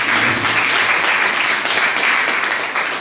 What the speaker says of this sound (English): Give them a round of applause, come on ladies and gentlemen.